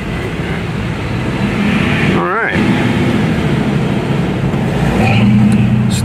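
A 1995 Toyota Tacoma pickup truck drives along a road with a continuous engine and tire rumble, close by, with a brief higher whine midway and a slight swell near the end.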